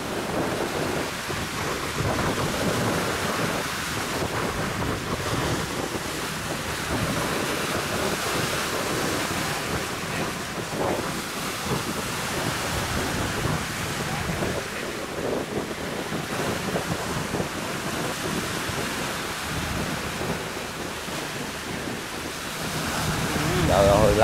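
Rough, heavy sea waves pound and rush continuously beneath a high-speed boat heading out toward offshore islands, a loud broadband wash mixed with wind buffeting the microphone.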